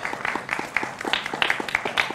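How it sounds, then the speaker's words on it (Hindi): A television panel audience gives a steady patter of applause to welcome political party spokespersons, dense and moderately loud for a couple of seconds. "जोरदार तालियों से आपका अभिनंदन है"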